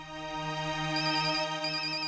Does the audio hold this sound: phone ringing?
yes